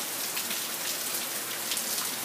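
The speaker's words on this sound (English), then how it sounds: "it's kind of a good soaking rain" Steady, dense rainfall hissing continuously on surfaces, a heavy soaking monsoon-season downpour with no voices.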